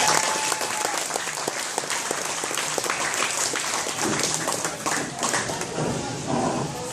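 An audience at a constitution association meeting gives sustained, loud applause, dense clapping that continues steadily throughout the whole moment.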